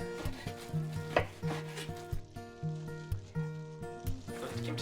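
A knife chops kimchi on a cutting board in a home kitchen, giving repeated sharp, moderately loud cuts under a backdrop of music.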